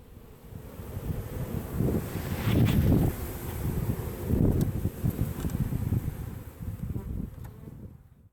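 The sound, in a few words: swarm of bees buzzing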